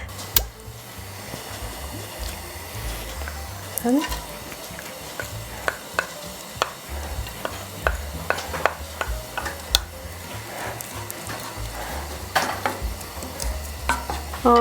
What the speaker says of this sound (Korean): 요거 잘게 썰어가지고요, 저 살짝 볶아가지고 밥에 섞으려고 그래요